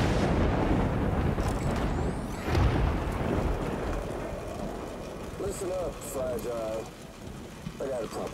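Steady rain and rumbling thunder in Death Stranding, a loud broadband wash throughout, with brief voices or cries near the end.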